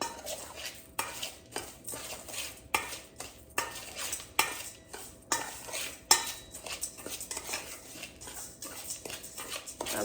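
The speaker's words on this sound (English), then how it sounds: "I'm gonna mix this all up." A spoon scrapes and clinks against a bowl in repeated rhythmic strokes as melted butter is stirred into cookie crumbs for a pumpkin cheesecake crust, close and fairly loud with no talking.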